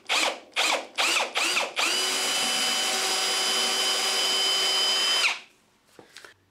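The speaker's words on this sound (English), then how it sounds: "I'm going to ensure the drill is in reverse." Cordless drill running in reverse with a screw extractor on a stripped screw: four short whirring bursts, then one long steady high whine that stops abruptly, followed by a few faint clicks.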